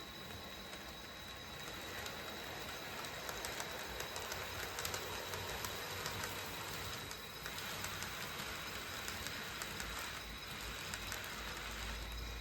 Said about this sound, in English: Here, a westbound through freight is switched off the outer loop main onto the secondary main track to yield right-of-way to the westbound Angelo.